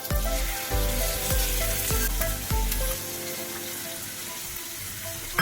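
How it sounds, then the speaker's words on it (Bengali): Poppy seed paste hits fried pointed gourd in a hot pan, giving a loud, dense sizzle with a few sharp stirring scrapes early on that settles into steady frying. "পটলগুলো ভাজা হয়ে গেছে। এর মধ্যে আমি পোস্তটা ঢেলে দিচ্ছি।"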